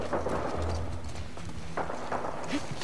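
A horse gallops in the video game The Last of Us Part 2, its quick hoof clip-clops running under game sounds and background noise, fairly quiet and brief.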